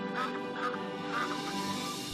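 Ducks quacking in a storybook fable scene, several harsh nasal calls repeating in a loose rhythm, fairly soft and close, over a faint musical backdrop with no talking.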